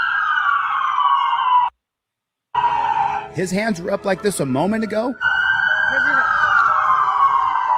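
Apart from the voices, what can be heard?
police car sirens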